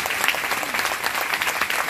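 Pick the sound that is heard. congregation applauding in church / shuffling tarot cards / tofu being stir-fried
congregation applauding in church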